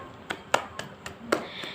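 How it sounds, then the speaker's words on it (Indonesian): A few scattered hand claps from children in a classroom, praising a classmate during a Quran lesson; about six soft, separate slaps rather than a sustained round. "Tepuk tangannya untuk teman kalian."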